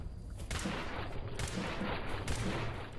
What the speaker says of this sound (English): Shoot him in the leg.